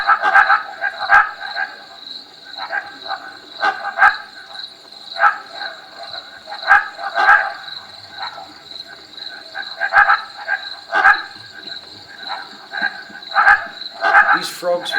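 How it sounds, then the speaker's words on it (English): Barking frogs floating on a water surface call in a field recording, a chorus of sharp, repeated croaking barks in irregular clusters, fairly loud and close, with no talking. "These frogs were floating on the water surface, and they're called barking frogs."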